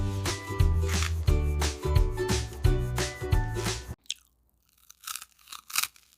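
Crisp crunching and chewing of a wrap loaded with fresh vegetables, close and loud, several bites in quick succession before a pause and a few fainter chews.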